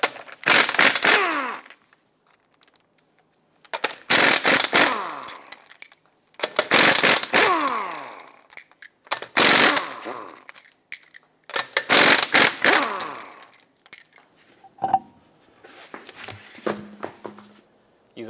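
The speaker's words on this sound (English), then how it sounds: "Use a 21mm socket and remove all 5 of your lug nuts," Impact tool spinning off the five lug nuts on a 2014-2021 Mazda 6 wheel with a 21mm socket, heard as six loud, separate bursts of whirring and rattling with pauses between them, no talk.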